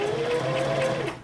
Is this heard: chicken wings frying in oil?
no